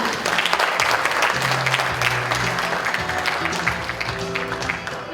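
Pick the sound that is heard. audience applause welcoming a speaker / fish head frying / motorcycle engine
audience applause welcoming a speaker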